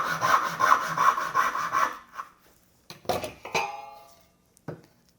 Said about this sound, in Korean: 당기는 톱질을 이렇게 하셔도 되고